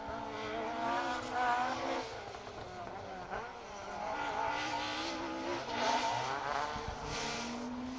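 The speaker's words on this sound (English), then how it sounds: "Car 36, Richard Hall, Declan Campbell pushing hard in that classic Cossack coloured Mark II Escort." A classic Mark II Ford Escort rally car in Cossack colours races flat out on a Manx Rally special stage, its engine wailing through rising and falling revs as gears change, heard from a moderate distance with a faint voice underneath.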